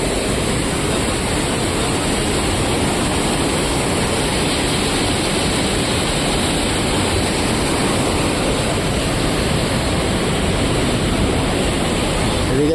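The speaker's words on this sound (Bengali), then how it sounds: "এই হলো জলের অবস্থা, স্রোত কি স্রোত। এই হলো মা গঙ্গা।" Fast, heavy current of the Ganges river rushes at a dam near Haridwar, a loud continuous broadband roar of churning water that stays close and unbroken throughout.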